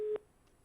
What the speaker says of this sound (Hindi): लगता है फोन लाइन जो है वो डिस्कनेक्ट हो गई है